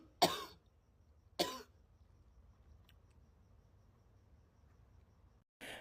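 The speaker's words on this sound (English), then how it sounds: "persistent cough, as you can see in the video" A persistent cough, likened to bronchitis, sounds twice as sharp, close bursts about a second apart, then returns briefly at the end over a quiet background with faint insect-like chirping.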